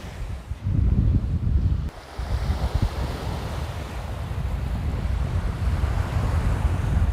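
Atlantic Ocean surf on the Irish coast rushes and roars close by at a fast-rising tide, blended with heavy wind buffeting the microphone, continuous and loud throughout.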